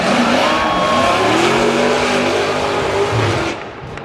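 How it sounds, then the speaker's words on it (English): Fast cars roar loudly around a corner at a race, engines revving and tires squealing in an overlapping rush before fading slightly at the end. "they come so fast around that corner"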